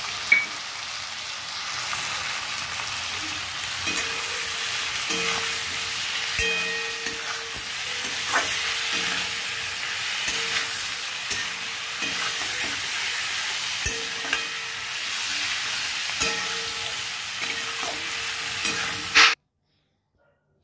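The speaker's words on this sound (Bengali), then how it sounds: "এবার এই ক্যাপসিকাম, টমেটো আর পেঁয়াজটা একটু ভালো করে ভাজা করব" Capsicum, tomato, onion and green chilli sizzling in an uncovered pan for a Bengali aubergine dish, a steady close hiss broken by repeated scraping stirs, no voices, ending abruptly.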